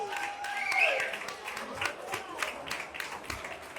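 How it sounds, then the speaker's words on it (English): Small audience at an art gallery exhibition introduction claps briefly and fairly faintly, scattered hand claps with a few murmuring voices underneath. "Let's give him a big round of applause."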